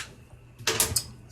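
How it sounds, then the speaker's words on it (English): Clothes being loaded into a home clothes dryer, heard as a short burst of soft rustling and a light clunk of the drum or door, close by after a quiet moment. "putting some clothes in the dryer right now"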